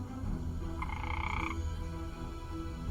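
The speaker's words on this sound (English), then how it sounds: "Vulcan, step away from the frog." A frog croaks in a short, buzzy burst lasting under a second, set against a steady, noisy background hum with no talking.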